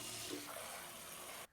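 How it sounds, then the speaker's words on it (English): Cold water runs from a kitchen tap into a pot of peeled, cut-up potatoes: a steady, close rushing gush that stops abruptly just before the end. "Fill the pot up with cold water."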